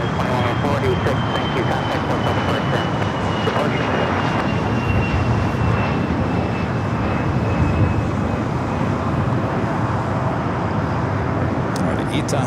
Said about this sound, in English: It's the United Dreamliner coming up from, I believe that was the Shanghai flight. Now heading over here to Terminal 7.